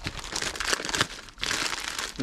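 Crisp crinkling and rustling of the plastic packaging of reinforced aluminium tape being handled up close, in two bursts separated by a brief pause.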